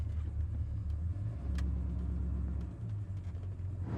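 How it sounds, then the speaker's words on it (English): A 1979 Chevrolet Corvette with a 350 engine drives along with a steady, low engine rumble and road noise throughout, close and continuous with no talking. "Let's see how this Corvette runs."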